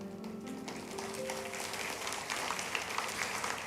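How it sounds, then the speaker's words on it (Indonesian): A church congregation claps during an Easter Sunday service, a soft, fairly quiet patter of many hands with a faint sustained tone lingering underneath near the start. "kasih tepuk tangan untuk Tuhan Yesus"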